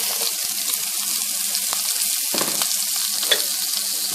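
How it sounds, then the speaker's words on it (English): Onions sizzle and fry in hot bacon grease in a pan, a steady close crackling hiss with a few stirring scrapes and no talking. "going to drop in the onions."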